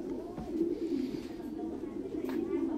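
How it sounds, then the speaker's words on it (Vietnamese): Thai Titan meat pigeons, kept as breeding pairs, coo in a low, continuous murmur that fills the clip, close and steady with faint background noise. "những cặp chim bồ câu ra ràng anh em có thể thấy rõ ràng này, rất là chất lượng"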